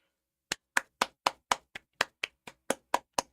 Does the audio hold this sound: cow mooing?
no